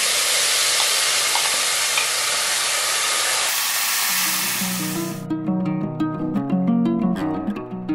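Spice paste hitting hot oil in a pan for a paneer dish, a loud hissing sizzle that dies down after a few seconds before music takes over.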